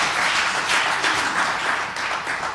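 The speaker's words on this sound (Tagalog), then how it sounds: "Isang buhay na palakpak para sa ating mahal na Panginoon." Congregation clapping during a sermon in a church service, dense, continuous applause from many hands, fairly loud and close, with no talking over it.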